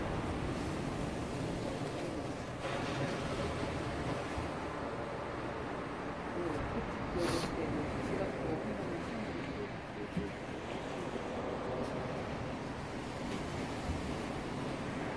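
Waves surge and break steadily on a calm morning beach at Jangsa, Yeongdeok, a continuous washing roar with faint voices far in the background.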